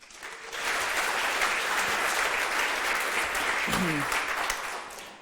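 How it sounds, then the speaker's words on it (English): Warm audience applause at a programming conference talk at ArrrrCamp 2012, swelling in quickly and holding steady and full for several seconds, with a brief voice cutting through near the end before it fades. "let's have a warm applause for Alex"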